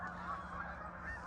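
Geese honking near Niagara Falls in winter, a loud, close flock calling in a continuous overlapping chorus of nasal honks with no pauses.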